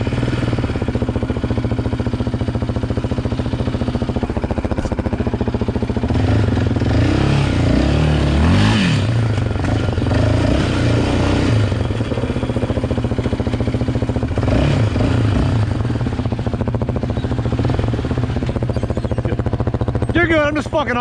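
A quad ATV engine drones and revs steadily on a narrow Michigan off-road trail, loud and continuous throughout, with people talking over it.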